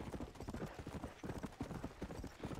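Horse hooves clip-clopping in the game Red Dead Redemption: Undead Nightmare, a quick steady rhythm of hoofbeats at moderate, fairly quiet level, alone without talk.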